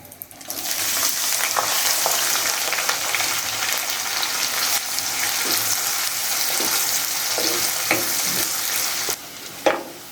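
Chopped onions and green chilies with bay leaves and cardamom frying in hot oil for a chicken dish, a loud, continuous close sizzle with occasional stirring clicks, ending in a brief knock; no talking.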